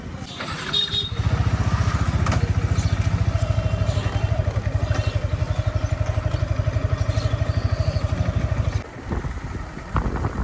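A motorcycle engine idling close by in a steady, rapid, throbbing putter that continues for several seconds, then dips briefly before picking up again near the end.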